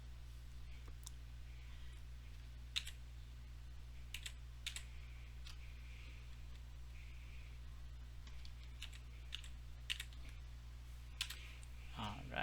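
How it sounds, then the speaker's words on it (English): Soft, quick keystrokes as a password is typed on a computer keyboard during domain controller setup, irregular clicks scattered over a steady electrical hum, faint and close. "if you want to type a password here, you can do that"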